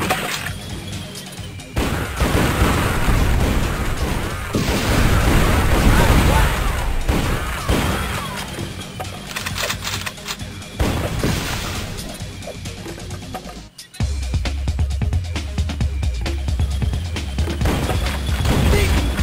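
A big gun in the PlayStation game Team Buddies fires in loud, dense bursts of booms and crashes that carry on for most of the stretch, with a brief drop in sound partway through and voices heard over the action.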